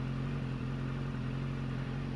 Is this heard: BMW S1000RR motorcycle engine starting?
yes